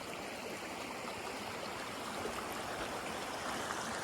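Water from Huai Chan waterfall in Khun Han district, Sisaket, Thailand, flows in a stream with a steady, even rushing hiss that goes on without a break, and no one speaks.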